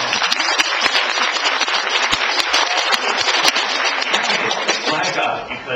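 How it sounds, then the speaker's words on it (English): Audience at a writers' conference breaks into a round of applause, a dense, loud, continuous patter of many hands clapping that holds steady for several seconds before easing slightly at the end. "give me a round of applause."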